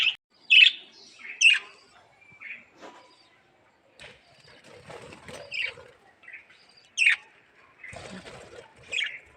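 Baby birds chirp and tweet in short, bright bursts at feeding time, several sharp calls spaced irregularly with brief fluttering between them, fairly close.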